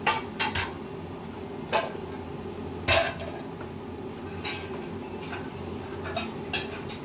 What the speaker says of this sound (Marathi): आता आपण याला फोडून आणि चांगल्याने एकदम मिक्स करू.